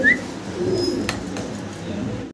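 Lahori fancy pigeons coo in low, throaty murmurs close by. A brief chirp opens it and soft rustling carries through the background.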